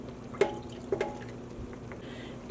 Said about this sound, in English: I'm carefully adding, sort of going down the edge, another 2 cups of water into the pan